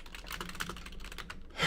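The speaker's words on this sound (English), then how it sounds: "Do you like hearing my clunky keyboard as I type?" A clunky computer keyboard clatters under steady, rapid typing, each keystroke a sharp close click in a continuous run, with no voices.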